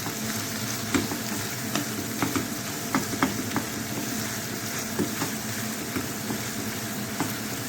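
Ground beef for sisig fries in its own fat in a pan, a steady close sizzle broken by occasional sharp pops and light stirring clicks, with no talking.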